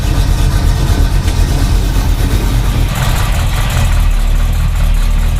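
An old car's engine runs loud and close after being unchoked, a steady rough idle with a deep throb and a slight shift in tone partway through.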